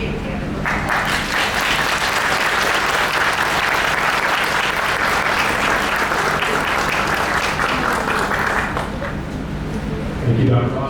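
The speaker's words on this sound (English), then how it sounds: "give yourselves a big hand of applause" Sustained applause from an audience at a professional excellence awards ceremony, dense and steady for about ten seconds before thinning slightly near the end.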